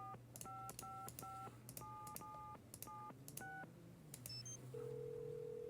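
Telephone dialing tones from the video game Nancy Drew: Secrets Can Kill, a quick run of clear, close keypad beeps in uneven bursts over a steady low hum, ending in a long continuous tone.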